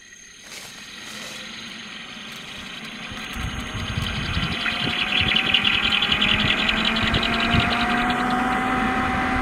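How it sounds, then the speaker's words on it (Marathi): A 7.5 HP motor starts up and runs on a Shakti solar pump system, a steady mechanical hum that builds in level after a few seconds and holds on, with a rising tonal whine and outdoor background noise. "तुम्ही बघू शकता चालू झालेली मोटर."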